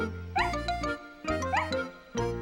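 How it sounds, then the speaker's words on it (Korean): A cartoon dog barks happily in two quick bursts of bright yips, each with a rising whine, lively and near, with a faint jingle between them. "그저 꼬리를 흔들며 반갑게 짖을 뿐이었어요"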